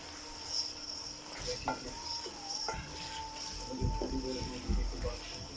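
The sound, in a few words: meat and spices with turmeric being fried and stirred in pan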